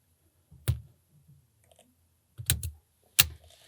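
A custom-made lock pick working the pins of an all-brass 38mm Waterbury padlock gives sharp, close metallic clicks, spaced out singly and in pairs across near silence.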